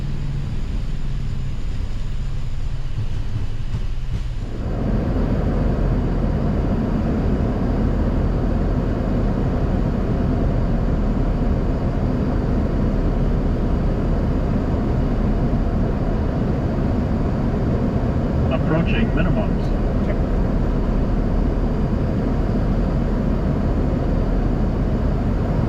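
Boeing 737 MAX landing rollout with thrust reversers deployed and manual braking: a loud, steady broadband roar of engines and airframe that swells after a few seconds and holds, with no talk.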